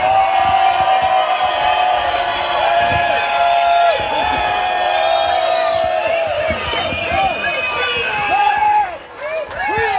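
A large crowd at a Trump-endorsed Michigan election rally cheers and whoops continuously, loud and close, with shouts rising over the roar before it briefly dips near the end.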